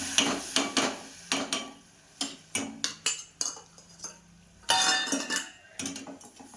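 A utensil scrapes and clinks against a pan while jaggery melts in hot oil, a series of sharp irregular metallic knocks and scrapes with short pauses, close and fairly loud.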